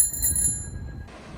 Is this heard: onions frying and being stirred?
no